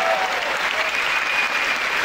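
A stand-up comedy audience breaks into brief, full applause, a thick steady patter of many hands throughout.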